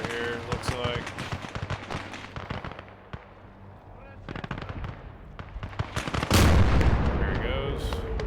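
Field gun artillery firing in the Gates of Hell video game, with sharp booms and crackling shots scattered throughout and a heavy, loud blast near the end, under someone speaking.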